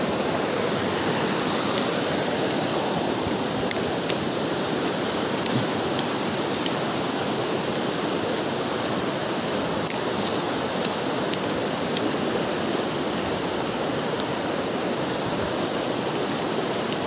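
Loud, continuous rushing of a white-water river, a dense unbroken roar that holds steady throughout with no voices.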